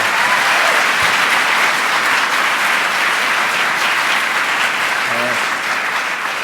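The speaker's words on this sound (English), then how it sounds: "round of applause" Sustained applause from a large audience, loud and continuous, with a few faint voices calling out underneath.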